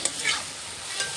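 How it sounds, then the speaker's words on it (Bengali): Fried potato and banana get stirred into a spice paste in a pan, giving a soft, brief scraping and sizzling with a couple of light stirring strokes, close and fairly quiet, with no talking. "মশলার সঙ্গে এখন ভালো করে নেড়ে চেড়ে"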